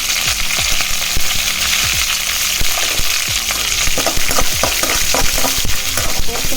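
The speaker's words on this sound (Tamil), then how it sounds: "கடுகு போட்டு லைட்டாக வதக்கி வதக்கி விட்டு கருவேப்பிலையும் காஞ்சி மிளகாவும் போட்டுக்கலாம்" Mustard seeds, curry leaves and dried chilies sizzle and fry steadily in hot oil for coconut rice, with a loud, continuous hiss and frequent small pops and spatters throughout.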